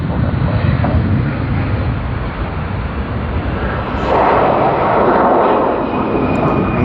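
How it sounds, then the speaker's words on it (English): A Hong Kong Airlines Airbus A330 departing runway 34 left at Sydney International Airport, its steady broadband jet roar rising and filling the air, loud and continuous with no talk. "Nice and beautiful A330 of Hong Kong Airlines that has departed runway 34 left from Sydney's International Airport."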